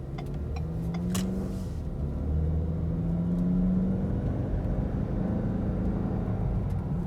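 A 2021 Ford Explorer with the 2.3L engine accelerating on a street, a steady low engine drone that rises gradually in pitch under cabin road noise, with no talking.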